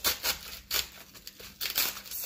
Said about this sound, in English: we're going to cut this cabbage